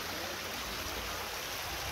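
Water runs over rocks in a forested spot, a steady broadband wash with no break, close by and moderately quiet, with no voices.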